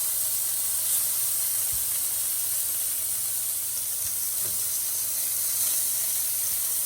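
Hamburger patties sizzle on a George Foreman Smokeless Grill with a steady, loud, broadband hiss that runs unbroken throughout, with a faint knock or two beneath it.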